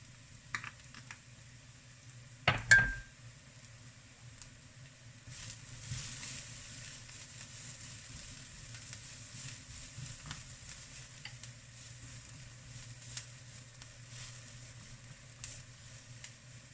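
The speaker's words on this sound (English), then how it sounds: "we are frying the spices too before we add on our tomatoes" Low, steady sizzling of spices frying in a pan continues throughout, with a sharp clatter early on and faint stirring scrapes over the quiet frying.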